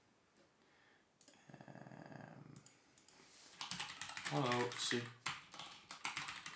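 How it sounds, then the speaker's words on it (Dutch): Computer keyboard typing during an online lecture session in Blackboard Collaborate, quick irregular key clicks coming through beneath a voice and other sounds, loud and close. "En hier kan ik ook wat terug typen."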